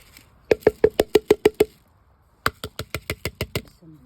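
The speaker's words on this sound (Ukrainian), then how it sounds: "Висипали, постукали і воно випало." Knuckles tap a container of millet in two quick bursts, about eight hard, evenly spaced knocks, a pause, then eight more, loud and close with nothing else heard.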